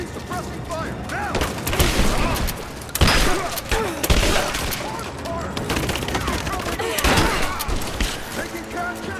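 Dense video-game gunfire from Rise of the Tomb Raider, with sustained automatic bursts and heavy booming shots over about nine seconds, loud and continuous, while shouted voices call out under the firefight.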